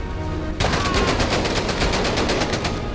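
Automatic gunfire erupts in the VR shooter Medal of Honor: Above and Beyond, a loud, rapid burst of evenly spaced shots that starts abruptly after a moment of quiet and carries on steadily to the end.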